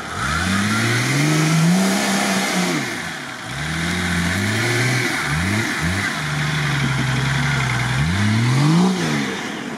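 An off-road UAZ jeep with a diesel engine revs hard while driving, its mid-pitched engine note rising and falling through several throttle bursts, loud and close with no talk over it.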